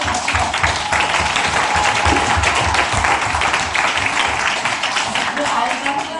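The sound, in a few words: audience applause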